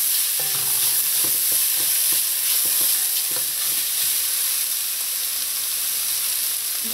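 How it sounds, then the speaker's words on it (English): Okra and scallions sauté in a pot with a steady, close hiss of sizzling, broken by a few soft clicks of stirring throughout, with no talking. "let this saute for about a minute"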